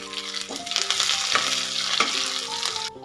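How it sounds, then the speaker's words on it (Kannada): Garlic and curry leaves frying in hot oil for a Heralikayi gojju, a steady close crackling sizzle with a few spoon strokes against the pan. "ಈ ಬೆಳ್ಳುಳ್ಳಿ ಎಲ್ಲ ಒಮ್ಮೆ ಚೆನ್ನಾಗಿ ಫ್ರೈ ಆಗಲಿ"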